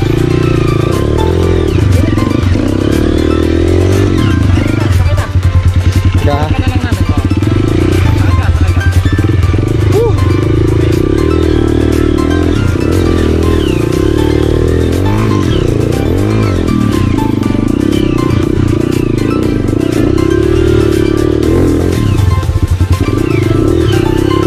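A motorcycle engine runs loudly and continuously up close on a trail ride in Bagac, Bataan, Philippines, its pitch rising and falling as the throttle is worked, with clattering throughout.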